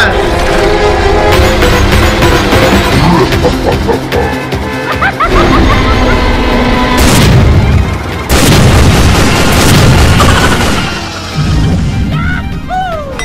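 A cartoon robot, Gogowa, fires repeated loud blasts at a dinosaur, with crashing booms and impacts over lively background music and excited cartoon voices shouting.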